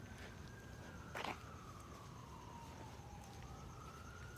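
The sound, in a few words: fire station siren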